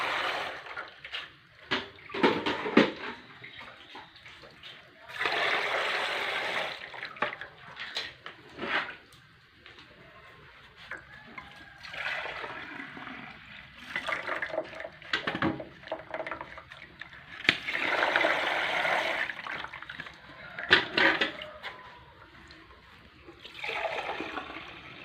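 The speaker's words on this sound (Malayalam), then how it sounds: "ബാക്കിയുള്ള വെള്ളം നമുക്ക് എല്ലാത്തിലും കൂടെ ഒഴിച്ചു കൊടുക്കാം." Water poured from a cup into rubber latex collection dishes during sheet making, heard as several bursts of splashing and trickling separated by short quiet gaps, fairly close and without talk.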